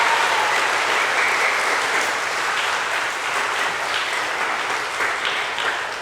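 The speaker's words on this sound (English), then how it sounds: "Round of applause for the statue of Mary" A church congregation claps during a homily for a statue of Mary, a loud, sustained round of applause that fades slightly toward the end.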